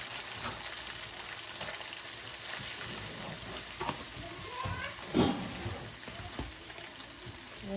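Onions and tomatoes stir-fried in a pan, a steady close sizzle with crackling bursts and intermittent spatula scrapes and clanks throughout, without anyone speaking.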